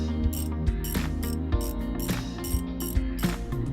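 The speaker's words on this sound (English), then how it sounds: "Secure each stud with the nylon lock nuts." A ratchet tightens nylon lock nuts onto the studs of a Hunter XP industrial HVLS ceiling fan, giving a rapid, steady run of close metallic clicks in regular back-and-forth strokes.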